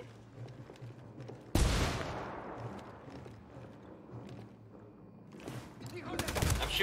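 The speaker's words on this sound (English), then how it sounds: "I'm shooting these fuckers." Gunfire in the tactical shooter Ghost Recon during a mission in Flor De Oro province: a sudden loud blast followed by rattling bursts and echoing reports, swelling again into heavy shooting at the end.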